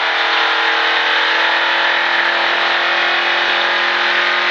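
A sprint car engine accelerates hard on a racetrack, a loud, steady, close roar that holds without pause for several seconds with no voices over it.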